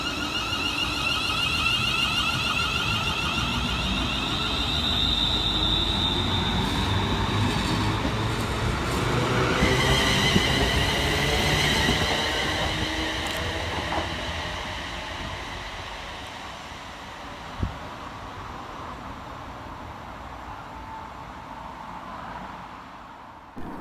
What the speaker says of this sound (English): Next up to depart from the station will be 380-108, working the 1117 Scotrail service from Ardrossan Harbour through to Glasgow Central.